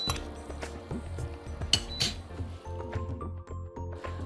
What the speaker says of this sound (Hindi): अब गुड़ को भी इसमें अच्छे से मिक्स कर लेते हैं